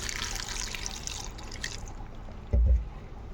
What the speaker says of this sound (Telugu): ఇప్పుడు ఇందులో కొద్దిగా వాటర్ అయితే వేసుకుంటున్నాను